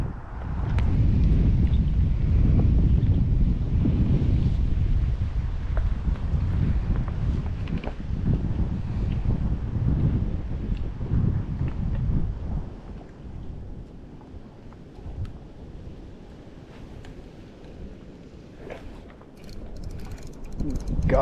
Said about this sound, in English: that wind is just, that wind's rough today